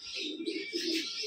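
A fantail pigeon coos in a soft, repeated low murmur, close and fairly quiet, with a few faint higher chirps from other birds in the background.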